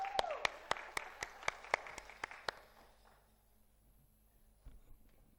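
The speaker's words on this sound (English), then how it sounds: "A big round of applause for Lara Shah." Sparse, sharp claps from a small audience at a finance innovation event, about a dozen distinct hits in a quick irregular burst that fades out, faint and fairly close, then near silence.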